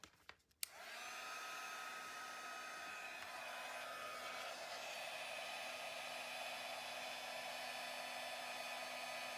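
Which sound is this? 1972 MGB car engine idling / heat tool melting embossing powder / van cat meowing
heat tool melting embossing powder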